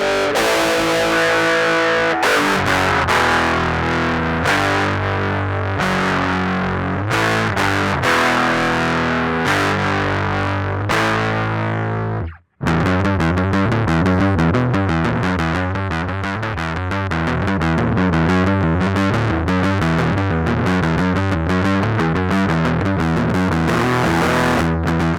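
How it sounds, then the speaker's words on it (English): Heavily distorted electric guitar from a high-gain guitar distortion plugin chugs through dense riffs, loud and continuous apart from a brief cut to silence midway. "The focus is really on high-gain guitar sounds with this one."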